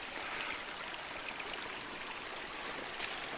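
Creek water flows steadily in a small January creek, a continuous broadband rush and trickle heard close by with no other sounds.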